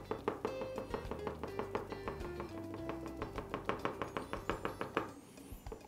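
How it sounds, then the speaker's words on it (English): A knife marks sugar paste for a sugar goldfish with a fast, steady run of light taps on a hard board. The taps are close and fairly faint, with no talk. "same thing, marking with the knife"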